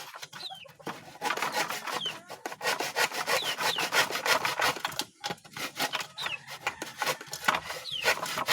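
A hand saw cuts through wood for a chicken feeding trough in a steady back-and-forth rasping rhythm, loud and close, with chickens clucking and a rooster crowing faintly in the background.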